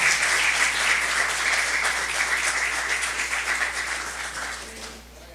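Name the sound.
congregation applause in church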